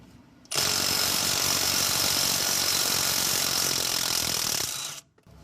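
A ratchet tool works on spark plugs of a Ford 5.4L 3V engine out of the vehicle, giving a loud, harsh, continuous buzzing rattle for about four and a half seconds before stopping abruptly.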